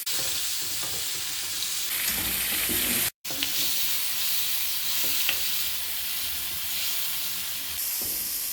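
Large peeled tomatoes frying in hot ghee in a koyla karahi, a loud, steady sizzle and hiss broken by a brief silent gap, with occasional stirring scrapes and no talking.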